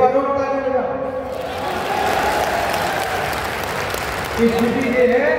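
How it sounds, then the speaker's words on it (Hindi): Audience applause at a Hindi poetry recital in a festival pavilion, a broad burst of clapping that swells and holds. Sung or declaimed voice tones are heard at the start and again near the end. "एक बार और ताली लगा।"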